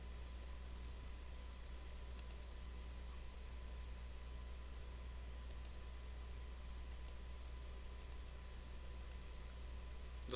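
Sparse mouse clicks from drawing with the line tool in Adobe Illustrator come in small pairs and clusters, faint and close over a steady low hum, with no talking.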